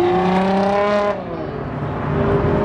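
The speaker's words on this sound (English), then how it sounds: "it's a Subaru WRX" Subaru WRX STI driving past at a car event, its engine note loud and close, rising then dropping in pitch as it goes by, followed by quieter road noise.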